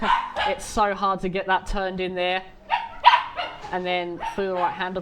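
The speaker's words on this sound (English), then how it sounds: "Please excuse the dog barking in the background." A dog barks repeatedly in the background, with sharp yips and barks spread throughout, while someone talks steadily over them during a sim race.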